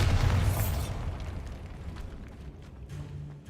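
The Bombarda spell in the game Hogwarts Legacy goes off as one loud, deep, booming explosion at the start, its rumble fading away over a few seconds.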